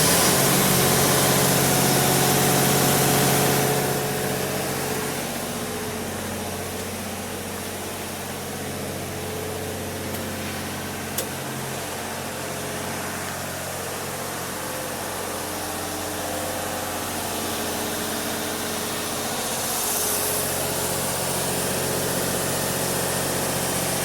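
A diesel generator, full of fuel and restarted, runs steadily nearby with a constant low idling drone and a slight vibration that holds throughout, louder at the start and end.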